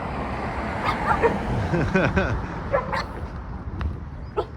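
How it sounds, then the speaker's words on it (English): Several dogs on rooftops bark in short bursts at a distance, overlapping against street noise and traffic hum in Guerrero Negro, Baja California, Mexico. "We got some roof dogs."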